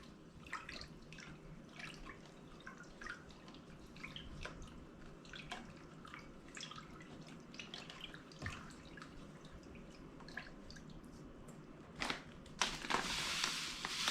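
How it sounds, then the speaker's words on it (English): Salt water sloshes and drips faintly as a hand swirls salt into it, with a brief louder splash near the end, quiet and close. "I'm going to tip a little bit in to the salt water. I'm basically just going to stir it around with my hand"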